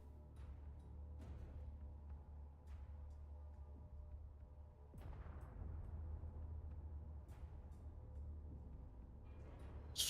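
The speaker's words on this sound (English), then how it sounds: "War of the railguns right now." Railgun fire in the space combat game Space Engineers: sharp, faint cracks at irregular intervals over a low, constant rumble, with one heavier impact near the middle.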